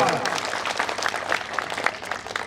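Enthusiastic audience applause at a live temple idol-installation event, dense clapping from a crowd that continues steadily throughout.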